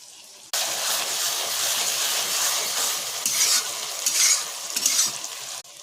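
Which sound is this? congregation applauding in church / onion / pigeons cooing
onion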